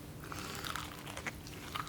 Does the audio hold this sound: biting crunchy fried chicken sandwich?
yes